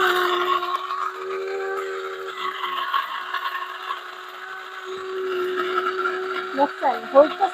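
An electric mini multi cooker chops onions with a steady motor whine that rises and falls in pitch, while a person talks over it and a few clatters come near the end.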